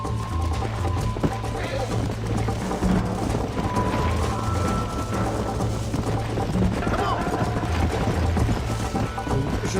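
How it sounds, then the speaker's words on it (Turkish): A horse gallops in the Red Dead Redemption video game, a steady rapid clatter of hooves running for several seconds, with occasional game effects and a voice speaking over it. "Ata fazla kırbaç vurdum."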